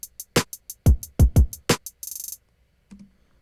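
A four-beat drum pattern programmed in Pro Tools plays back alone, with punchy low kick hits, crisp hi-hat ticks and a short bright burst near the end, spaced in a steady rhythm.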